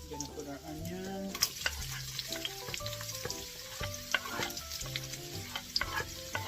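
Onion and garlic fry in a pan for palabok sauce, giving a soft, steady sizzle broken by frequent spatula stirs and scrapes, fairly faint and close, with no one speaking.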